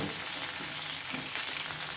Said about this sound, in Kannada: ಇದೆಲ್ಲ ಚೆನ್ನಾಗಿ ಫ್ರೈ ಮಾಡ್ಕೋಬೇಕು.